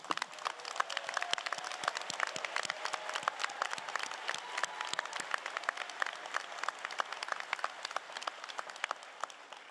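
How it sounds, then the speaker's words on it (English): An audience at a Langara convocation ceremony applauds the class of 2022, with many distinct hand claps sharp and close against a continuous wash of clapping across the hall, sustained at an even level throughout. "Could we give them a round of applause now?"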